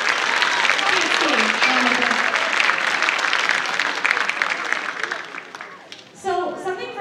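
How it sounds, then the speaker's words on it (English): A concert audience applauds after a jazz ensemble's performance at a school jazz night, sustained dense clapping filling the room before it thins and a voice cuts in near the end. "applause."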